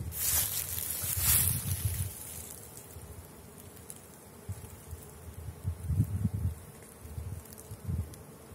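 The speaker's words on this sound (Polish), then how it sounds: "Wszędzie pełno pszczół." Steady buzzing of many honeybees at flowering willow on a hot day, a continuous drone with swells of louder nearby passes, no talking.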